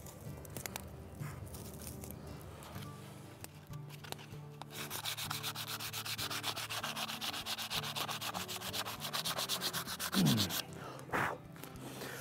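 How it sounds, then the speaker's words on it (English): Rapid rhythmic scratchy strokes of sanding on the end of a wooden axe handle, close and continuous, growing louder and denser after a quieter start, with a few thumps and handling knocks near the end and no talking. "So I'm just gonna start off by sanding the end of the handle"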